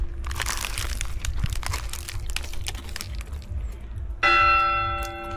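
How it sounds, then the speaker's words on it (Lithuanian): Church bells ringing out in a Turkish town street, a bright sustained peal entering suddenly near the end over a busy background hum of traffic and crowd noise. "Nu, bažnyčios varpai skamba."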